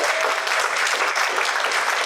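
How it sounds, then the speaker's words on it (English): An audience at a Latinx Heritage Month discussion event breaks into dense, sustained applause. Many hands clap steadily together, filling the room at an even loudness. "I know I've asked for a lot of applause, but let's do one more time."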